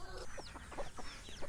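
Cockerel on a farm clucking in a short series of soft, close calls, quiet and alone with no talk.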